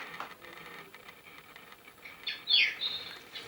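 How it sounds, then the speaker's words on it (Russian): An alarm clock plays a birdsong melody: faint, thin chirps over a low hiss, with a brighter cluster of tweets near the end. "Пение птичек, как никогда раньше, может вас разбудить."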